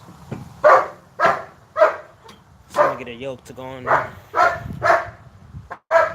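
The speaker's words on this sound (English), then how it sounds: "Damn that dog, get on my nerves." A dog barks in short, repeated bursts in the background while someone talks during car work on an LS engine swap, with a few fairly loud yaps scattered through the speech.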